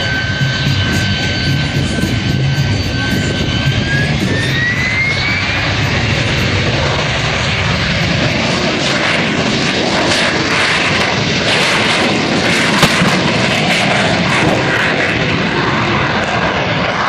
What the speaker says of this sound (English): Let's watch the AV-8B Harrier 2 and its rolling takeoff.